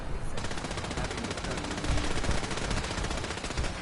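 Rapid, sustained bursts of gunfire in Fallout 4, loud and close, rattling continuously like automatic weapons with no voices.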